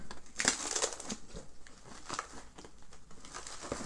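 A balloon coated in yarn crinkles and rustles as it is pushed down and loosened, a close, quiet run of irregular crackling bursts.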